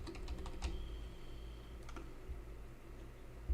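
Fingers tap on a computer keyboard in quick clusters of clicks, with a pause between bursts, fairly quiet and close.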